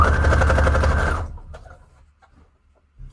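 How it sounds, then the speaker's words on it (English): A sewing machine runs a fast straight stitch on a paper craft piece, a loud rapid mechanical chatter for just over a second before it stops, followed by faint handling sounds. "I need to do a straight stitch as long as possible here on top"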